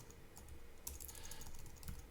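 Quiet, close computer keyboard typing as code is entered for a notes app, a steady run of soft key clicks with a few firmer taps over a low background hiss.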